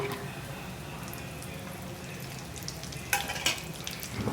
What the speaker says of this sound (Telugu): జీడిపప్పు ఇలా సగం ఫ్రై అయ్యాక దీనిలోకి కట్ చేసుకున్న ఎండు కొబ్బరి ముక్కలు వేసుకోవాలి.